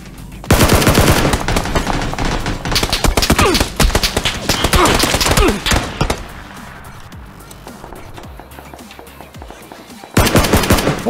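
Loud bursts of automatic gunfire from the video game PUBG, long rapid rattling volleys separated by short pauses, with a quieter stretch in the middle before another burst at the end.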